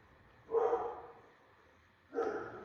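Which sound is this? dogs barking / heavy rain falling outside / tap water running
dogs barking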